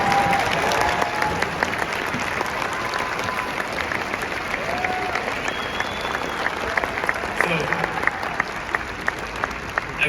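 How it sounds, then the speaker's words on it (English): Graduates at an Arizona State University convocation applaud in a large arena, a broad sustained wash of many hands clapping that continues for the whole stretch with scattered louder claps and some crowd noise. "So I'd like those of you that are graduating today to just stand and applaud all the people that helped bring you here"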